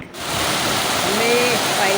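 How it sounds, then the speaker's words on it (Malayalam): Heavy rain pours down steadily in a loud, continuous wash of broadband noise, close and unbroken for the whole stretch. "ഭയങ്കര മഴ"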